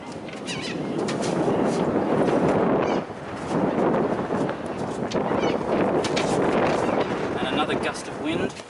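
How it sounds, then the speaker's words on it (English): Wind gusting across an outdoor cricket ground during a grade grand final, buffeting the microphone in loud rumbling bursts with a brief lull partway, while a commentator talks and birds chirp faintly. "And another gust of wind"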